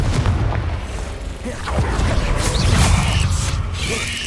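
The Confringo fire spell explodes in the Hogwarts Legacy video game, a deep rumbling boom that swells and lingers with crackling debris, loud and close.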